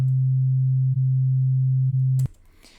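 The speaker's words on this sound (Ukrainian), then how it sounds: "ось в мене є така хвиля, це синусоїда" A steady, pure low sine test tone holds evenly for about two seconds, then cuts off abruptly with a click, leaving faint background noise.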